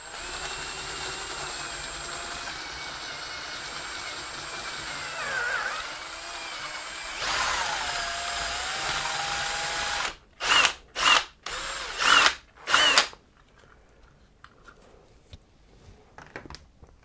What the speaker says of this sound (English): we're trying to cut the hole without overdoing it and without cutting and cracking the case